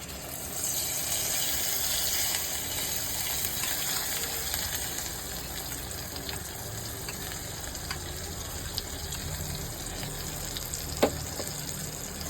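Almond paste sizzles and fries in hot oil in a wok, a steady crackling hiss that stays loud and even throughout, with an occasional sharp clink of a utensil near the end.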